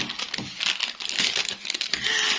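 A plastic snack wrapper from heart-shaped biscuits is handled and torn open up close, with bursts of loud crinkling and crackling broken by short pauses.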